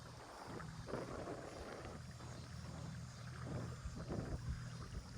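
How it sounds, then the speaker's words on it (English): A 45-pound-thrust electric trolling motor drives a homemade boat on a river, a faint low hum under steady wind and water wash, with soft irregular knocks. "So this trolling motor, I think it has like a 45-pound thrust on it."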